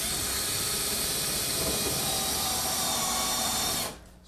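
A power drill drives screws into the deck structure of a Sevtec hovercraft hull, a loud, steady whirring drone held close for about four seconds before cutting off abruptly at the end.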